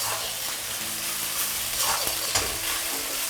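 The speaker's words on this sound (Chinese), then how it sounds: "慢慢给它炒香，把这个豆瓣酱和这牛肉给它炒在一起" Beef stir-fries with a little Pixian doubanjiang bean paste in a wok, a constant close sizzle with light scraping and tossing sounds and a low background hum, with no talking.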